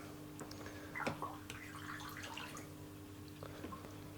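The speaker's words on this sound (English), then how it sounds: "And you can see the water flows all the way to the back here." An aquarium filter outlet in a 60 litre tank pushes water with faint, quiet splashing and trickling bursts over a steady low pump hum, the burbling busiest in the first few seconds before settling.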